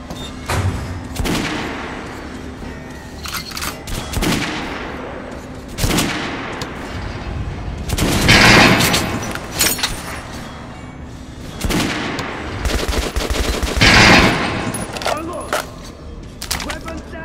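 Repeated bursts of gunfire in the shooter game Metro: Last Light Redux, with loud volleys and booming shots at intervals amid battle noise, as shouted voices call out over the fighting.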